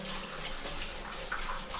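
Hot shower water runs steadily in a Baja California bathroom, a constant close hiss of spray with no voices, alone from start to finish.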